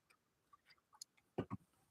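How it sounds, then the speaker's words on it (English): A small clock right beside the microphone gives a few faint, close ticks, ending in two louder clicks in quick succession, with no talk. "You can hear the clock clicking next to the microphone."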